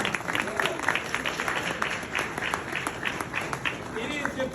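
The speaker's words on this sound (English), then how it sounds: "let's give a round of applause to these two" Applause from a lecture-class audience, a continuous wash of clapping hands with voices and chatter mixed in, moderately distant and steady.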